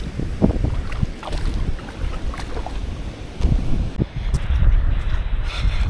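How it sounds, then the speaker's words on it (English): Strong gusting wind buffets the microphone beside a river during trout fishing in Southland, New Zealand, a steady low roar that rises and falls and grows heavier toward the end, with no talking. "the wind is so bad now I can hardly cast"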